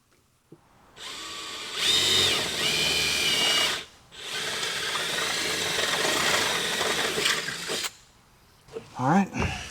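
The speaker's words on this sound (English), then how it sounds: "now let me get inside and drill it." A power drill whirs loudly in two long bursts separated by a brief pause, drilling into the body of a 1957 Chevrolet Bel-Air, with a few clunks and a short voice near the end.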